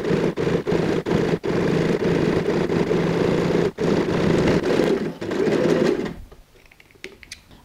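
Sewing machine backstitching the end of a seam on a tote bag edge with a blind hem foot, a steady close mechanical whir broken by brief pauses, then stopping and fading to quiet near the end.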